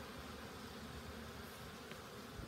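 Honey bees buzz steadily around eight hives in a November apiary, forming a faint, continuous drone with no voices.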